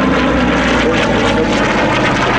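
The 2,000-horsepower Pratt & Whitney R-2800 Double Wasp radial engine of a Goodyear FG-1D Corsair at an air show, a loud, continuous, close throaty growl filling the whole moment without pause.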